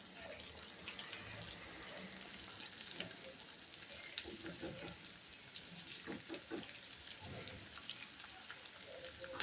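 Fish frying in a pan over low heat, a soft continuous sizzle with crackling pops and faint stirring or turning noises, quiet and close.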